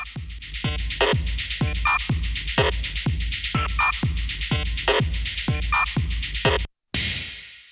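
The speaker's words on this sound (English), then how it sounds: "And then this glitchy rhythm pattern made from other textural sample chops." A loud, driving electronic beat: repeated deep bass kicks under stuttering, chopped glitchy clicks and short tonal blips, cutting off abruptly before a brief noisy tail.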